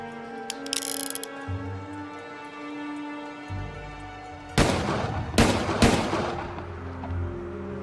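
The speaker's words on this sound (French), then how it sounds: "3 coups de feu retentissent" Three sharp gunshots crack in quick succession in a courtyard of a palace, loud and close, coming after a quieter passage of low sustained tones and brief noises.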